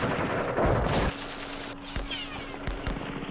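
Gunfire in the Vietnam war strategy game Campaign Series Vietnam at Dien Bien Phu: a dense burst of rapid shots, then a few separate sharp reports over a lingering tone.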